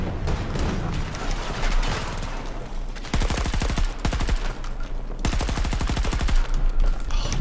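Rapid automatic bursts from an M5 rifle in Battlefield 2042, loud close sustained fire broken into several long strings with brief pauses between them.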